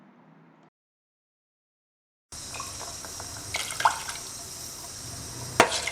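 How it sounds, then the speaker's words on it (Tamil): Tamarind water pours into a pot of rasam, a liquid splashing and trickling stream that starts after a brief quiet gap, with a couple of sharper drips or clinks near the end. "இப்போது இதில் நம்ம கரைச்சி வச்சிருக்கிற புளித்தண்ணி சேர்த்துக்கலாம்."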